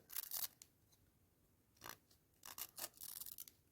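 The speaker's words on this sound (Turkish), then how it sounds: "Bıçağımla güzelce kesiyorum." A knife cuts fresh ginger in a few quiet, close crunching strokes separated by short pauses, with soft scraping on the board.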